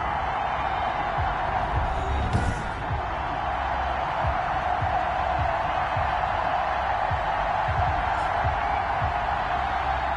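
Stadium crowd roaring steadily before a Houston Voyagers versus Memphis Egyptians football game, a broad continuous wash of cheering that stays level throughout, with a commentator's voice running over it.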